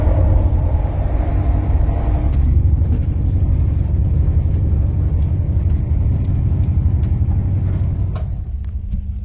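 Kanchankanya Express train pulling into Bardhaman, a loud steady low rumble of the running carriage that eases slightly toward the end.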